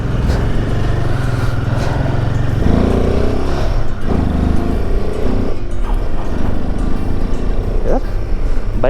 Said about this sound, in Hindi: यार, बाइक थोड़ी हैवी से चल रही है।